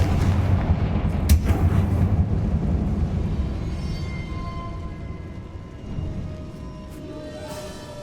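Deep booming blast from a Confringo spell in Hogwarts Legacy, a loud rumbling explosion that rings out and slowly fades, with a sharper crack partway through and a lighter burst later.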